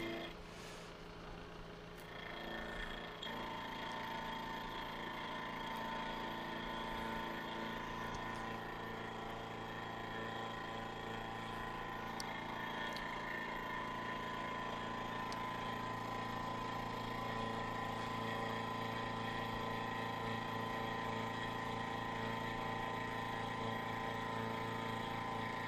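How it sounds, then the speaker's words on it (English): A manual milling machine cuts a metal block in a workshop, producing a steady, sustained mechanical drone with a constant tonal whine and a few faint clicks, heard alone without talk. "And we'll crank this up and get it so that it's just touching that surface."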